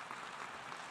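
Brief applause from a parliamentary audience after a speech announcing recognition of the Palestinian state, a soft, steady patter of many hands heard faintly and at a distance.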